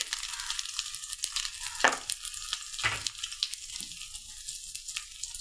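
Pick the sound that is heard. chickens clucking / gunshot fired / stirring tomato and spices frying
stirring tomato and spices frying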